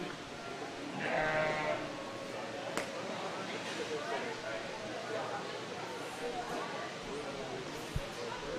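Sheep bleat briefly at a goat and sheep livestock show, a short close bleat early on amid crowd chatter and an announcer's voice, with a few sharp knocks.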